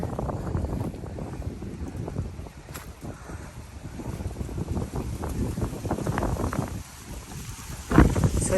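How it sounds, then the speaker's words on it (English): Strong gusty wind roars and buffets the microphone in a South Florida garden, a continuous rough rumble that surges and eases, with a harder gust near the end. "it is very windy"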